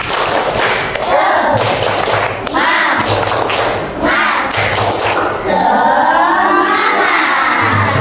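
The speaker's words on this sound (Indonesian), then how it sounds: "Yuk kita tepuk semangat dulu." Children in an Indonesian classroom perform a rhythmic 'tepuk semangat' clapping chant, with loud bursts of group clapping and thumping alternating with shouted chanting voices, close and energetic throughout.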